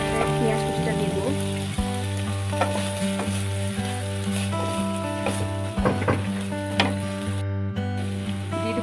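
Chopped onion dropped into a hot pan for chicken thukpa, frying with a continuous sizzle and some stirring, close and steady, with strong tonal background music throughout.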